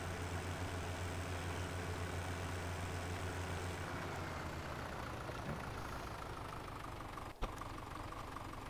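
A Kurleman H488 tractor engine idling in the Farming Simulator 2017 video game, a steady low drone running throughout at a constant level, with one brief click near the end.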